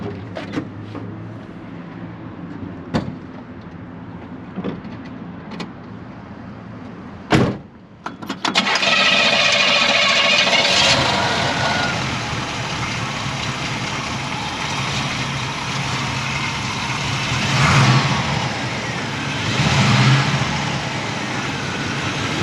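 A 1973 Pontiac Lemans with a 400 V8 and Edelbrock intake and air cleaner: a few sharp clicks and knocks, then the engine cranks and catches at once, settling into a loud, steady, rumbling idle that swells slightly now and then.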